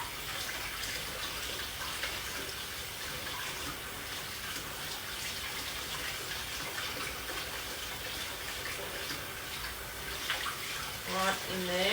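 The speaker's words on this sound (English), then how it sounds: "So I'm just going to give it a really good wash" Tap water runs steadily over coriander roots being washed in a kitchen sink, a continuous close splashing hiss with faint handling noises toward the end.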